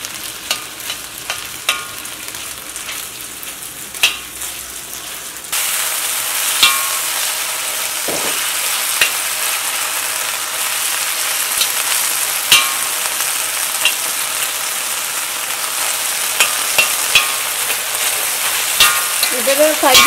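Lamb pieces fry in a pan with a steady sizzle. After a few seconds the hiss jumps louder and stays bright, broken by occasional clinks and scrapes of stirring.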